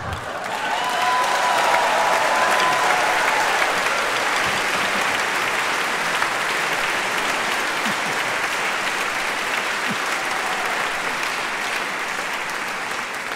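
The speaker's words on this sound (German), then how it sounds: "frenetischer Applaus" A theatre audience at a bossa nova stage show claps loudly and continuously throughout, an unbroken, enthusiastic wash of applause with no voices.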